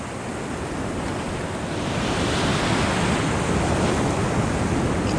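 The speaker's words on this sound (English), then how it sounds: "Look at the size of these waves rolling in." Large ocean waves roll into rough surf around rocks, a continuous, loud, broad roar of breaking water that swells louder partway through, with wind buffeting the microphone and no voices.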